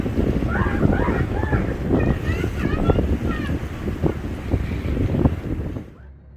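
A sailboat with its sails stowed runs under engine on the way to Cape Breton, a steady motor drone mixed with wind buffeting and water wash, with people talking over it.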